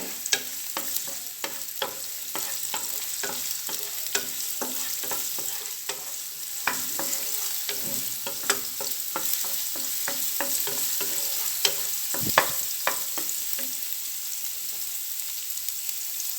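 Chopped onion from one large bulb frying in a pan for capsicum noodles, with steady close sizzling and repeated scraping clicks of a utensil stirring throughout, no voices.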